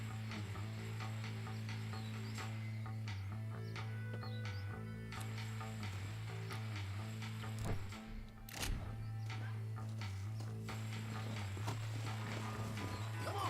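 Steady clip-clop of horse hooves walking at an even pace over a constant low hum, with a brief snort or whinny partway through, from the video game Red Dead Redemption.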